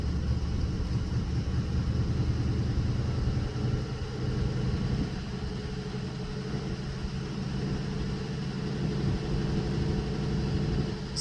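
A 1978 Oldsmobile Delta 88 with a carbureted engine starting cold and settling into a steady, loud fast idle, a continuous low rumble throughout with no talk.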